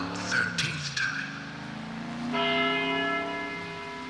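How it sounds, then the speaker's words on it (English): Church bell ringing in the video game Deadly Premonition: Director's Cut, with a couple of bright strikes followed by a long, sustained resonant toll over low rumbling game ambience. "After the 12th time, the bell did not stop ringing. It rang a loud 13th time."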